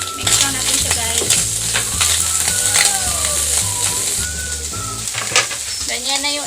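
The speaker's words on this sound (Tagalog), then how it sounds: "Pwede na natin ilagay yung ating ginger. Tapos ating sibuyas. Tsaka ating sili. Mix lang natin siya" Ginger, onion and chili frying and being stirred in a pan for tuna sisig: a constant loud sizzle with repeated clanks and scrapes of the utensil, close and without talk.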